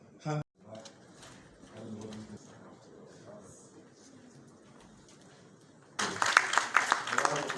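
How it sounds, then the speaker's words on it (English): Audience applause at a scholarship directory launch event in Ghana, breaking out suddenly as a loud, dense burst of clapping near the end after quieter speech and room noise. "we're getting thunderous applause"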